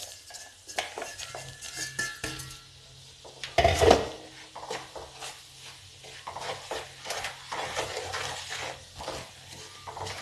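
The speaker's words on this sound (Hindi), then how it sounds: "मैं इसको हिला देती हूँ" Ginger pickle mixture with spices stirred in a pan, a series of close scraping strokes in an uneven rhythm with one louder clatter, alone without talk.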